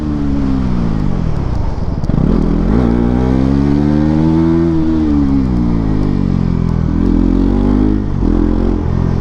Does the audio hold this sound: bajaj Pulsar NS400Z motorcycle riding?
yes